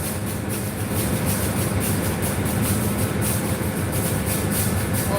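A special train bound for Chiang Mai pulls in to platform 6 at Hua Lamphong station in Bangkok, giving a steady, close rumble with a faint rhythmic clatter of wheels throughout.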